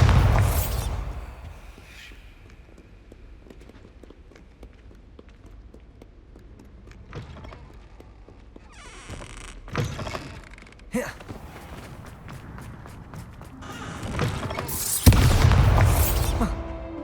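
A Bombarda explosion spell in the video game Hogwarts Legacy bursts out as a loud, broadband boom late in the clip, preceded by quieter scattered impacts and game sounds.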